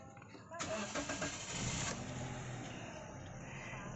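A faulty car engine in neutral is cranked by the starter for about a second and a half, then catches and settles into a steady idle close by.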